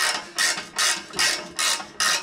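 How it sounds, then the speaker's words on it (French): A ratchet wrench loosens an exhaust clamp under a Citroën Grand C4 Picasso 2.0 HDi, giving five evenly spaced bursts of quick clicking with brief pauses between strokes, close and fairly quiet. "donc on desserre entièrement le collier"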